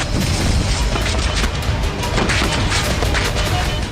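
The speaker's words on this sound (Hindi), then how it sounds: "इस रॉकेट से बड़ा धमाका होता है" A heavy, rumbling Hamas rocket explosion with deep booming roar and crackling debris, sustained and loud throughout.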